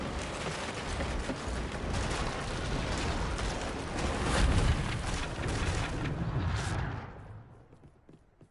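Confringo blasting spell cast in Hogwarts Legacy, a sustained loud rumbling blast with crackling debris that swells midway and then fades out near the end, with no voices over it.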